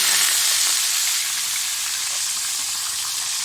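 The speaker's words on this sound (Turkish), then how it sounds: "Şimdi şehriyelerin kavrulması için birazcık karıştırıyoruz" Vermicelli toasts in a pan while being stirred, giving a steady, close, even sizzle with a soft hiss and no speech.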